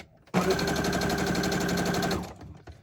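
A sewing machine runs steadily for about two seconds, stitching all around the edge of a pocket on a junk journal page, loud and close, then stops and a few faint handling knocks follow.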